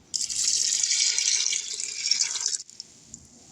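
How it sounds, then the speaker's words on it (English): Broth pours steadily into a stock pot holding a pound of rinsed lentils, a close, continuous liquid rush lasting about two and a half seconds before stopping abruptly, leaving a quiet tail. "I am going to add 4 cups of broth"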